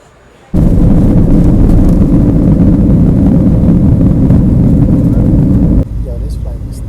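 Aircraft cabin noise on a 30-minute flight in Colombia, a loud, steady broadband roar that starts abruptly and drops off near the end.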